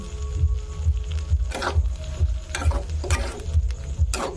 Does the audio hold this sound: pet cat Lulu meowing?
no